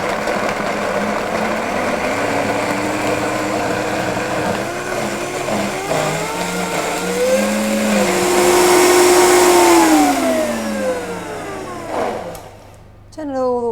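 Blender whirring at medium speed through a thick nut cheese, its motor pitch gliding and wavering as the load shifts, then winding down toward the end; loud and close, running alone without talk.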